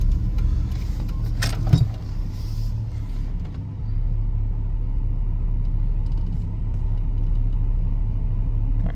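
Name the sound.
1995 Chevy K1500 5.7 TBI engine running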